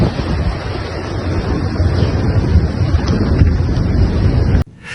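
Storm-driven waves and strong wind from Cyclone Harry on the Sicilian coast, a loud, steady roaring wash with wind buffeting the microphone, cutting off abruptly near the end.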